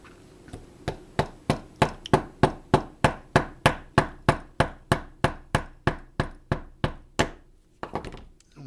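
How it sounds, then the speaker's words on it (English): A hammer taps toothpicks into wood rapidly and evenly, about twenty sharp strikes in a steady rhythm, close by, followed by a brief scrape. "And then I take the hammer"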